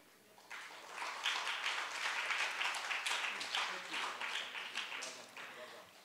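An audience applauds a young speaker at a civil society debate, a fairly soft, dense patter of many hands swelling and holding for several seconds before tapering off.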